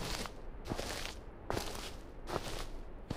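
Footsteps in the horror video game Heartwood, a steady run of soft, evenly spaced steps close by over a low ambient bed, with no voices.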